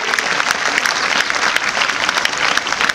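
A crowd gives loud, sustained applause for teachers at a school event honouring a student athlete, steady and close with a few faint voices mixed in.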